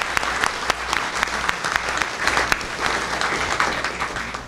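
An audience at a public awareness event gives panelists a sustained round of applause, many hands clapping in a dense, steady patter for several seconds.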